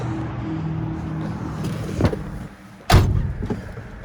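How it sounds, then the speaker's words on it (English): A door on a restored 1972 Chevrolet El Camino SS swings shut with one solid, heavy thump close by. A lighter knock comes just before it, with faint ambient noise around both sounds. "Doors closes nice and solid."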